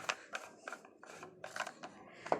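A garden tap fitting is unscrewed in a few short scraping, ratcheting twists spread over about two seconds, close by and fairly quiet, with no voices.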